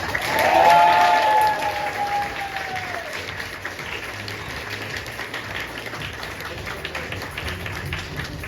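Applause at a last-bell graduation ceremony for eleventh-grade students at School No. 10 in Ukhta, Komi Republic. It swells loudest at first, with a brief sung or called tone on top, then settles into steady clapping from a large audience.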